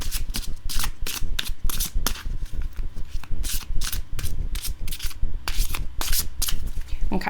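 A slightly oversized oracle card deck being riffle-shuffled repeatedly, with quick bursts of crisp flapping and bridging, close up and fairly loud.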